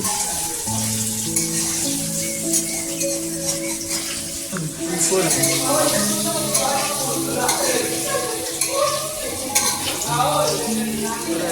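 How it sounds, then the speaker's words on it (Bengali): Potatoes are stirred and fried in a pan, a steady sizzle with scraping and stirring bursts, while a voice hums or talks intermittently underneath. "আলুটা সবে নেড়ে ভাজছি"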